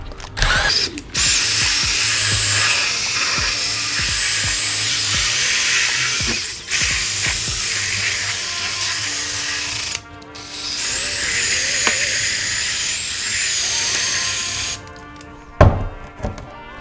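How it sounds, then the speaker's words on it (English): Loud whirring of a drill-powered brush scrubbing carpet, spinning in several long bursts, pausing briefly between runs, with clicks and thumps at the stops. "I am using a yellow drill brush"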